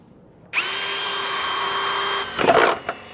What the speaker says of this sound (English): Pilot holes drilled